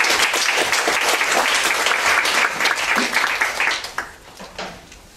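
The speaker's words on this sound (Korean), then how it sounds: "여러분 박수로 환영해 주시면 감사하겠습니다" Audience applause welcoming a professor to the lectern at a Korean theology seminar, a dense steady wash of clapping that thins and tapers off over the last second.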